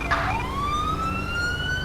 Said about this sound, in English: Get my siren shut off.